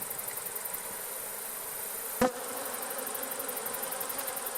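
Honeybees drone in a backyard hive that has lost its queen and holds new queen cells. The close, steady buzz is continuous and even, broken once by a single sharp click midway.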